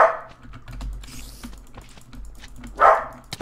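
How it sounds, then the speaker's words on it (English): A dog barks twice in the background, once at the start and once near the end, over light computer keyboard typing and clicking. "my dog's barking."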